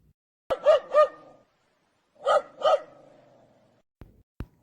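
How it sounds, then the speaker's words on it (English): A dog barks in two quick double bursts with a short pause between them, close and clear. A couple of faint clicks come at the end, and no one speaks. "The dog barks."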